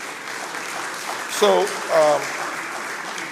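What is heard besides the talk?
audience applause for panelists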